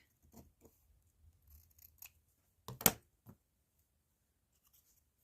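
Scissors snip through card during a card-making project, with a few quiet, scattered cuts and a louder cluster of two or three close snips near the middle.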